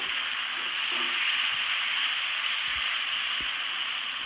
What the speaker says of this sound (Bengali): ভালো করে একটু নেড়ে চেড়ে ভেজে নেব